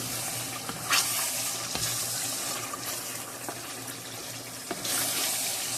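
Tomato gravy is stirred in a sizzling pan while cooking gobi gosht, a cauliflower and meat dish, with a spoon scraping steadily over a constant frying hiss and a few sharper knocks; no one speaks.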